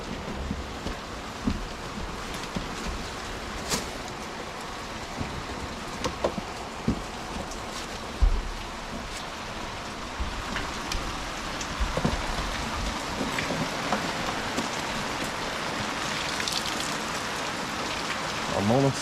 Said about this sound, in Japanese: ものすごい雨と